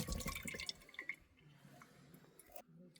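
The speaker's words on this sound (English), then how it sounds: "Next we drain the water from the potatoes." Water drains from a tin of potatoes while camp cooking outdoors, a quiet dripping, splattering trickle that starts stronger and thins into scattered drips.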